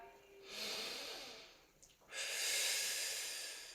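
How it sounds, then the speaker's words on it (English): Two deep breaths taken during a slow back stretch with a resistance band and chair, each a long, airy inhale-exhale rush lasting over a second, close and fairly loud, with a brief pause between them and no talking. "Take a breath."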